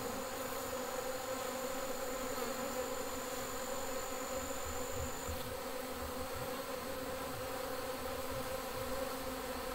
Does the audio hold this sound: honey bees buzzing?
yes